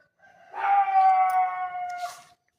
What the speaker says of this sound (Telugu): అందుకే కుక్కలు కూడా అరుస్తున్నాయి అన్నమాట